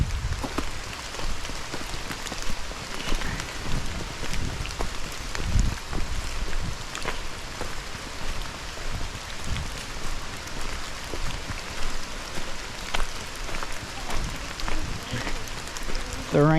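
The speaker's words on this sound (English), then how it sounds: "The rain has picked up a tiny bit. It's a light drizzle now, but overall not too bad." Light rain drizzle falling through an oak forest in Cuyahoga Valley, a steady soft patter of drops on leaves and ground, continuous and fairly close, with occasional faint rustling.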